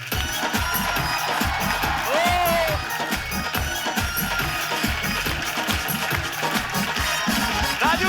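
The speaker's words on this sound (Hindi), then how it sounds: "उनके लिए जोरदार तालियां।" A studio audience on a comedy show cheers and claps as a guest is welcomed, with a loud, continuous crowd roar and scattered whoops throughout.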